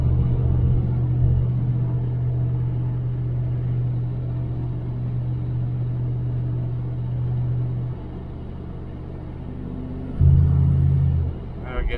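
A 1978 El Camino SS with a 305 four-barrel V8 and headers drives along, its low engine drone steady from inside the cab, easing off about two-thirds through, then swelling briefly with a throatier rise near the end.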